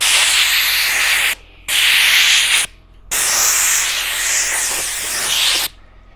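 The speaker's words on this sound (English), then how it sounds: "I think we're going to go get our air sprayer to get all these little cracks" An air sprayer blasts compressed air into the cracks of a vintage trailer cabinet, with loud close hissing bursts that start and stop four times over several seconds, no talk.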